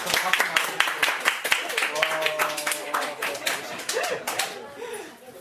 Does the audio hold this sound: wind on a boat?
no